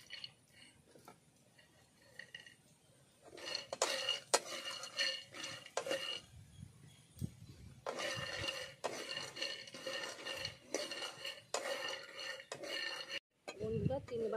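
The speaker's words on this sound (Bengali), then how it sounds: "কড়াইতে চিনেবাদামটা প্রথমে আমি ভেজে নিই।" Raw peanuts dry-roasted in a wok, with bursts of scraping and rattling as a spatula stirs the nuts against the metal, coming in irregular clusters with quieter gaps between, close and moderately loud.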